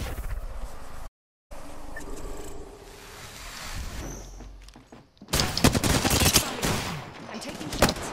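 Gunfire in Apex Legends, a loud sustained burst of rapid automatic shots in the latter half following quieter game ambience, with a voice speaking briefly.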